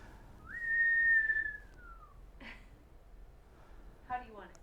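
A person whistles one long sliding note that glides gently downward, followed by a short puff of breath and a faint voiced sound.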